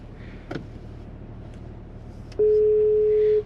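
A phone call rings out on the line: after some quiet background noise, one steady, clear ringing tone sounds loud and close for about a second.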